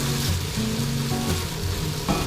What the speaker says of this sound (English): Our potato gnocchi in the skillet.